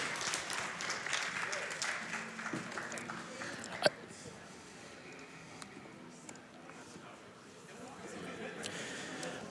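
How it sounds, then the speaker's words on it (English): A crowd applauds steadily and fairly distantly, a continuous wash of clapping that holds for the whole stretch. "can we get one more round of applause for the Sag?"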